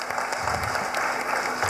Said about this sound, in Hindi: जोरदार तालियों से पहले आप सब स्वागत करें.